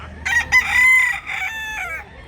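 A rooster crows loudly and close at a Cebu livestock market in Mantalungon, one drawn-out cock-a-doodle-doo with a wavering tail, standing alone without talk.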